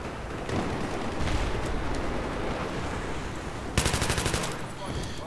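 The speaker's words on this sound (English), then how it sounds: "Since I'm using the M249 machine gun" An M249 machine gun fires in Battlefield 3 multiplayer, a sustained noisy roar of gunfire with a sharp rapid burst of rounds near the end, loud and close, with no talk over it.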